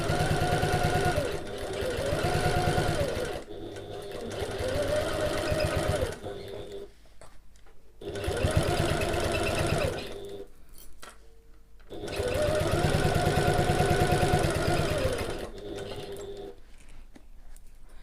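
A sewing machine runs in several long bursts stitching a bag seam at regular stitch length, with back stitching at the start and end; loud, close, rhythmic runs separated by short pauses and quiet handling sounds.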